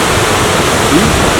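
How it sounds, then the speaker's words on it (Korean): Yongchu waterfall in Chilyeon valley on Deogyusan, a drop of about five metres, roars as a loud, steady broadband rush of falling water close by. "여기는 전북 안성에 있는 용추폭포입니다."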